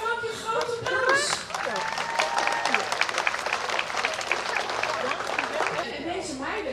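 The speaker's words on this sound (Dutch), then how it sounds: "geef je vrouwtje een groot applaus" A room full of people at a teachers' retirement farewell claps in warm, sustained applause, with voices and cheers mixed in.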